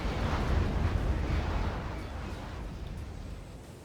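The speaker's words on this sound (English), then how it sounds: "All those missiles, all those missiles." Missiles explode in the real-time strategy game Act of Aggression, a deep, rumbling blast that swells at the start and then slowly trails off into a low roar.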